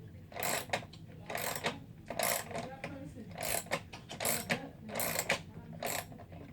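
A ratchet wrench tightens hardware while assembling a Radio Flyer Big Wheel; quick rhythmic clicking strokes repeat in about seven short bursts, quiet and close, with faint background noise between them.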